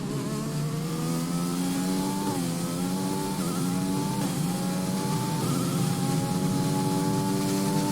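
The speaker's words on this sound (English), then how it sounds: "engine noise is too loud?" A racing car engine at Silverstone in a racing video game drones loudly and steadily, its pitch rising and dipping through gear changes, with no talk over it.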